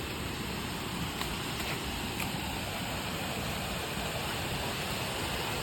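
A strong river current swollen after overnight rain rushes steadily along the Angayan River, a dense, continuous broadband roar of flowing water with no pauses and no voices.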